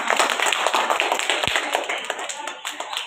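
A roomful of schoolchildren applauds class competition winners, a steady patter of many hands clapping at close range with chatter mixed underneath.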